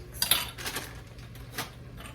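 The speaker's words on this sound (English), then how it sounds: "And so now all you do is just stir it in, stir it up." Homemade mac and cheese is stirred in a pot, giving a few soft scraping swishes and light utensil taps against the cookware over about two seconds, with no voices.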